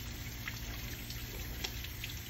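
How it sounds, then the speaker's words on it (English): Tap water runs while hands are rinsed at a sink, a faint, steady pouring trickle with small splashy variations and no speech. "rinse again really well with enough water"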